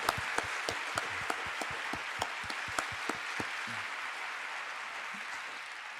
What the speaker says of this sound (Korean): 그리스도의 사랑의 마음을 담아 축복하며 박수로 응원하도록 하겠습니다.